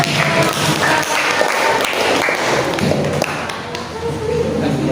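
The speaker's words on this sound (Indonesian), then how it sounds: "Oke, kasih tepuk tangan" Classroom applause after a student group's presentation, a dense broadband patter of many hands clapping steadily throughout at moderate loudness, with scattered voices mixed in.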